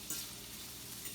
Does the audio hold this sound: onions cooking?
yes